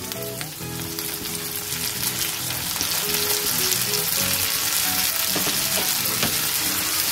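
Three green chilies and a chopped medium tomato fry in a hot pan while cooking palak paneer, giving a loud, steady, crackling sizzle throughout with occasional stirring scrapes.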